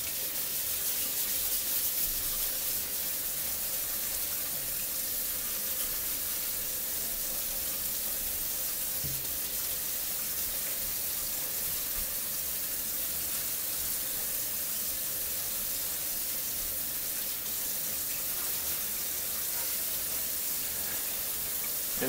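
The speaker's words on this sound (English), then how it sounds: "Little wire scrubber." A small wire scrubber works over a kitchen surface, giving a long, steady, hissing scrape that carries on without pause for over twenty seconds, close up and moderately loud.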